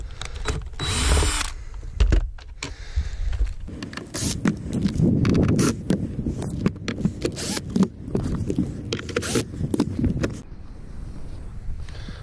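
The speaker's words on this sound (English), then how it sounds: "So the first step is obviously just going to remove your windshield. This one's just simply held in by Phillips screws." A power drill backs Phillips screws out of a bass boat windshield, with whirring bursts and brief stops, plus clattering handling noises nearby, and no one speaking.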